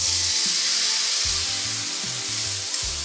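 Sauce poured into a hot pan of honey garlic prawns and garlic sizzles loudly and steadily, a dense frying hiss with soft stirring thumps and no talk.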